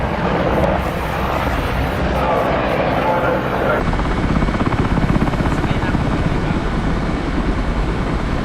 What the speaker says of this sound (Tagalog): May helicopter bro.